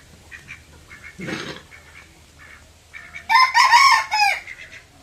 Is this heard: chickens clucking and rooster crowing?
yes